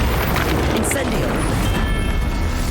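The Incendio fire spell in Hogwarts Legacy bursts out as a loud, dense, continuous fiery roar with rumbling booms, filling the whole moment without a pause.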